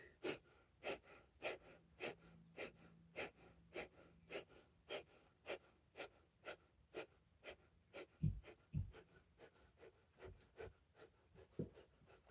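Rapid, rhythmic breath of fire pumping, with sharp forceful exhales through the nose repeating about twice per second, steady and close, with a couple of louder snorts near the end.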